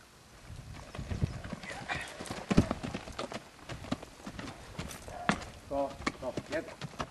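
Hooves of a horse clip-clopping on the ground, with scattered irregular steps, occasional snorts and a whinny-like sound, while people talk quietly nearby.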